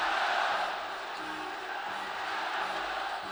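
Large arena crowd roaring and cheering behind China at a FIBA Asia Championship 2011 basketball game against Jordan, a loud, steady wall of voices that swells slightly at the start and holds throughout.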